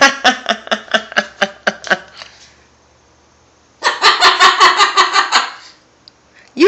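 A pet bird mimics human laughter in two loud, close bursts of rapid rhythmic ha-ha pulses, the first about ten quick beats and the second a denser run, separated by near silence.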